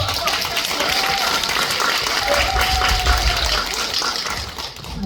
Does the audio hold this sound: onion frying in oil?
no